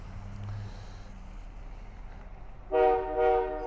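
A former Pennsylvania GP9 diesel locomotive backs toward the listener along the track, a low engine rumble building before two loud, close blasts of its horn.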